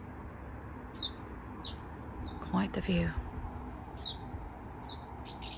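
Small birds in the English countryside of the Lake District give short, bright chirps, about six spaced calls across the moment. The calls sound fairly close, with a brief voice speaking in the middle.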